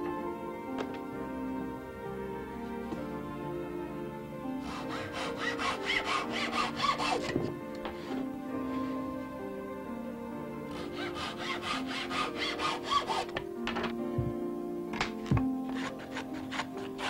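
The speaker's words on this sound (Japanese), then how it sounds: "寸法ごとに切断した後、必要な厚みに削ってから貼り合わせます。" A hand saw cuts wood to size for a traditional Buddhist altar in two close, sustained bursts of quick rasping strokes, separated by short pauses and ending in a few scattered strokes.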